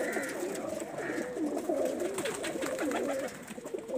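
Male breeder pigeons coo in repeated soft, throaty rolling calls, close and fairly loud, overlapping one another throughout without talk.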